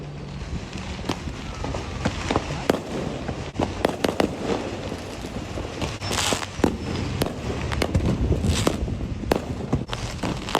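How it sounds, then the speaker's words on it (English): Fireworks bursting on the 4th of July, a steady run of sharp cracks and pops at irregular intervals over a dense rumbling backdrop, fairly loud and continuous throughout with some bursts louder than others. "Mama Lynn, there's like 3 fireworks going up."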